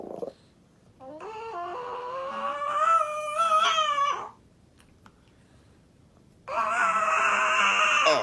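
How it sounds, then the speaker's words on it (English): A small dog howls in long, wavering, moaning cries, two loud near bursts separated by a short silence, with no talk over them. "We got a little gremlin dog."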